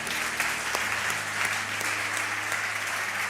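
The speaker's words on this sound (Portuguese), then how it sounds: "Aplaude direito, mão presa" A worship congregation at a church service claps together, a steady crowded patter at moderate level running throughout, with a low hum beneath and no clear speech.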